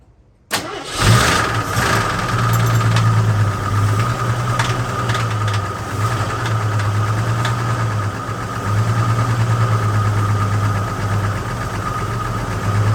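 An AMC Concord that sat parked for 26 years cranks and catches, its engine starting abruptly and then running loud and steady at close range with a rough, slightly knocking idle, no talking over it.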